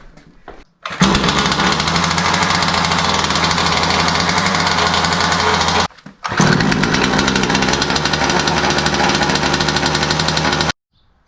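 A Rovan Max 45cc two-stroke gasoline engine runs during break-in on a stand with its muffler pointed outward, a loud steady buzzing rattle in two long bursts separated by a brief cutout, echoing off a nearby wall.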